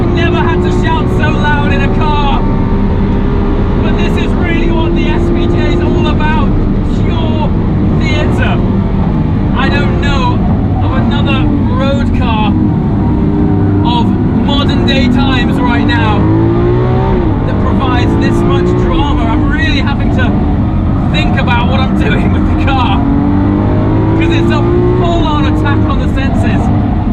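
A Lamborghini Aventador SVJ on a race track, its engine roaring loud and close with revving rises and gear changes throughout, while someone talks over it.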